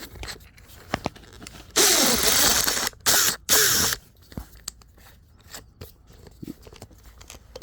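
A sub compact cordless drill bores a pilot hole in short bursts, a loud grinding whir of about two seconds followed by two briefer spurts, amid quieter handling clicks.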